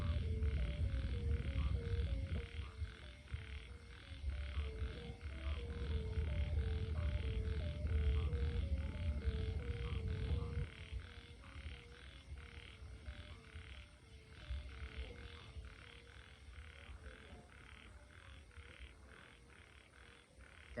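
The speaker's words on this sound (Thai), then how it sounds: "เสียงกบเสียงเขียดในห้องร้ายขนาด" A chorus of frogs croaks steadily in a rhythmic, repeating pattern over a constant low rumble of wind or hum, moderately distant, with no talking.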